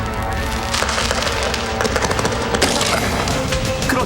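A row of identical firecrackers keeps bursting outdoors in a dense, loud, crackling rattle of rapid overlapping pops that holds steady throughout.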